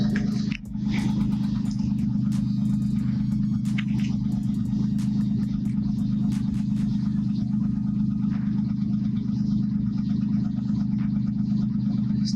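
A Mitsubishi Galant engine idles steadily at 1000 rpm, a constant low hum with a smooth, even drone and faint ticking above it throughout.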